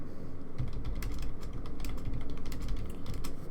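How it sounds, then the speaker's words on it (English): Rapid clicking of a computer keyboard while playing an online card game, bursts of key taps in an uneven rhythm over a low background hum, close by. "Keyboard freaking out."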